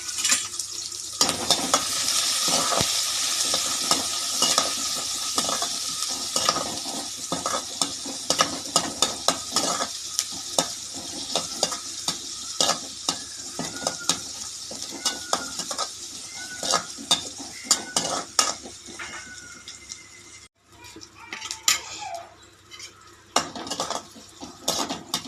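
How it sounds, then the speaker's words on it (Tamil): Onions, green chilies and curry leaves sauté for tomato sambar, a steady loud sizzle with frequent scraping and clinking of a spoon stirring against the pan throughout, close up. "வெங்காயம் நல்லா வதங்கிடுச்சுங்க"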